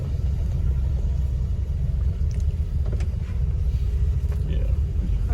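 Ford Gran Torino V8 with Holley Sniper EFI and an engine stumble, idling and pulling away from cold, giving a steady, loud low rumble with close cabin drone and no talk over it.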